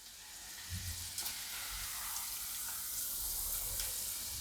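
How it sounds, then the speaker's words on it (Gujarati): Moong dal lentils fry in oil, giving a soft, steady hiss of sizzling that stays faint and even throughout, with no voices. "તો બધી દાળ આપણે એ રીતે તળી લેવું."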